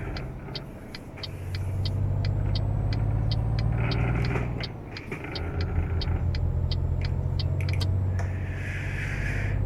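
Truck in Euro Truck Simulator 2 rumbling along with a low steady engine drone, while a regular ticking indicator clicks over it and a brief hiss comes near the end.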